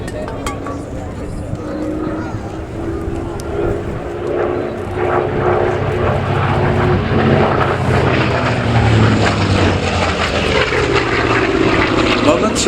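Propeller-driven warbirds fly at the Duxford Flying Legends airshow, giving a steady, loud engine drone that builds slowly across the pass, with an announcer talking over it.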